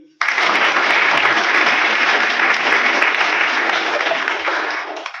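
Audience applause at a school National Science Day quiz event, a dense, steady wash of many hands clapping that starts abruptly and holds loud and even for about five seconds.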